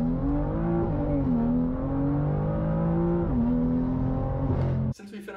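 BMW M2 CS engine droning steadily with layered harmonic tones and slight pitch shifts as it pulls through the rev range, loud and close, ending abruptly in a brief burst of different noise.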